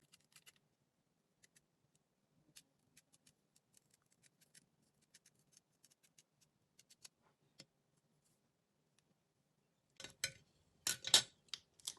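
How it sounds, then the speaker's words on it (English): Scissors snip through wig lace in soft, sparse clicks, then a quick cluster of closer, louder cuts near the end, all faint and close in a quiet room. "and I'm gonna cut the lace"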